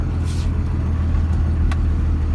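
A 1998 Dodge Ram 2500 pickup with a turbo Cummins diesel and an 8-inch dump exhaust drives along with a steady, loud, low engine drone. Wind buffeting is mixed in and no one talks.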